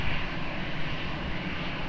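A jet airliner rolls for takeoff at Lisbon Airport, its engines a broad, steady roar that holds at an even, fairly loud level throughout.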